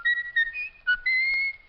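A pet bird whistles a tune in clear, bright, sustained notes that slide between pitches in a short melodic phrase, loud and close with brief pauses and no talking.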